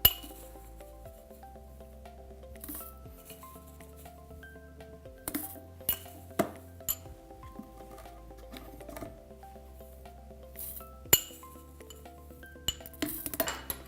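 Light clinks and small scraping taps of a spoon measuring green tea into a jar, scattered irregularly over a low steady hum.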